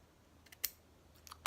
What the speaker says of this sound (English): if you have a little bit of excess tape that's kind of hanging on the edge, just take your scissors